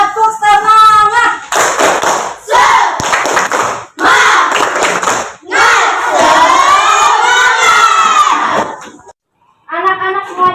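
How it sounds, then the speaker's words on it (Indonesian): Schoolchildren in a classroom perform a tepuk semangat spirit clap, shouting loud rhythmic chant phrases in unison mixed with bursts of clapping, each phrase separated by brief pauses. "hari ini kita akan melakukan tepuk semangat lebih dahulu"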